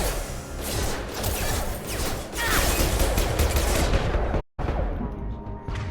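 Sustained automatic gunfire in a Mass Effect 2 insanity-difficulty battle, loud and continuous rattling bursts with a brief cut near the end before the shooting resumes.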